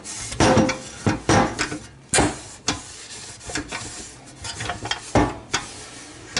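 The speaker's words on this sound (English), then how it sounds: "Wipe the pan out." Rag wiping out the transmission pan of a 2008 Chevy Duramax, close scrubbing and rubbing strokes with scattered light metallic clinks and knocks, uneven in rhythm and heard alone.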